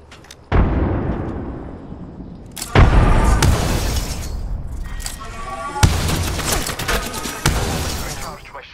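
In a video game firefight, a grenade explodes with a heavy boom amid repeated bursts of gunfire and further blasts, loud and close, with voices talking over the action.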